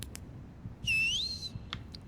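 A single rising and falling whistle comes through voice chat for about half a second, clear and fairly loud, framed by a few faint clicks and keyboard taps, with no speech.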